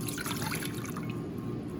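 Water poured into a saucepan while making pastry, a brief splashing trickle into the pan.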